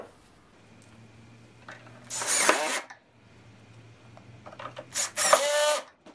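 Two bursts of a power drill driving self-tapping screws into the wheel mounts of a Nilfisk Core 125-5 pressure washer, each burst about a second long, loud and close, with a quiet hum between them.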